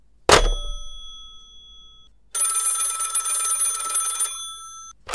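An old-fashioned telephone bell rings in a radio drama, first a short sharp ding and then a sustained bright ring lasting about two seconds, with a hint of another at the end.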